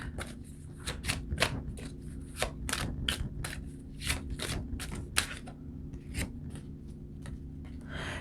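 Tarot cards are shuffled and drawn from a deck close by: a steady run of crisp, papery flicks and snaps at an uneven quick rhythm, with no voice over it.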